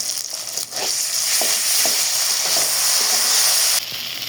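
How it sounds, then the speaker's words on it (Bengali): Prawns frying with spices in a pan, a steady loud sizzle with a few soft stirring clicks, close up and without voices. "চিংড়ি মাছ মশলা ভালো করে কষিয়ে নিয়েছি"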